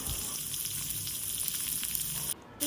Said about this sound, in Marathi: हे सगळं व्यवस्थित परतून घ्यायचंय